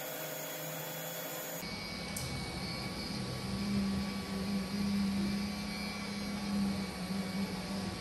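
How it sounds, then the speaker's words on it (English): KP3S 3D printer mid-print, steady faint mechanical whir with a low humming stepper-motor tone and a constant fan drone, no voices. "Now is the second round of printing,"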